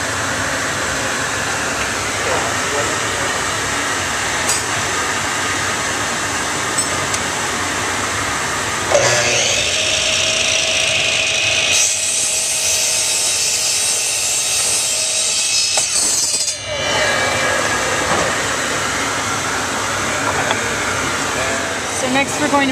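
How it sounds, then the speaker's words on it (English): A power saw with a blade guard spins up and cuts through clamped wood, giving a sustained loud whine and rasp mid-clip, with instructional talking before and around the cut. "Allow motor to reach full speed before you make the cut."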